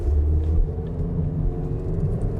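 Low rumbling drone of a 2022 Toyota Corolla LE engine accelerating on the road, steady and close with heavy low-end road and engine noise.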